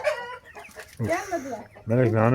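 Chickens cluck and squawk close by in bursts, with a person talking in between.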